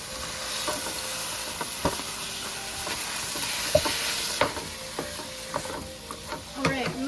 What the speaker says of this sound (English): And I finally get to use my cute pink Paris Hilton meat masher.